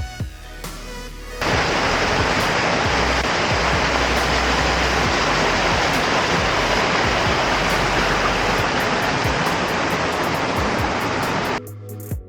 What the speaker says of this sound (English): This spot is one of the most accessible waterfalls in Maui